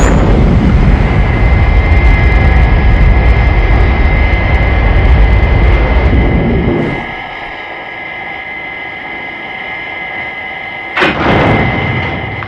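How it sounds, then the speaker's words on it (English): Thunderbird 4, a small rescue craft, launches with a loud, sustained engine roar that cuts off abruptly to a lower hum, then a brief sharp burst returns near the end. "FAB, launching Thunderbird 4."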